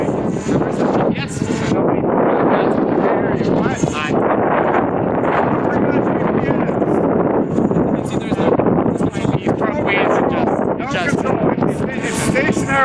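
Wind rushes around a Skydrones Skylane-250 holding a GPS hover in a 10 m/s wind. A steady blustery roar runs throughout, mostly under a person talking.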